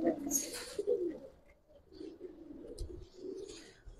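Pigeons coo in a loft, low soft calls repeating through the clip alongside a few brief higher chirps and flutter, moderately close with steady background noise.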